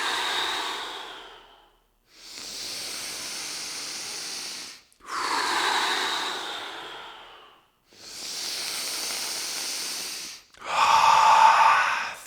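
Five long, deep breaths, each a steady whooshing rush of air lasting about two seconds with short pauses between, close and fairly loud, the last one the strongest.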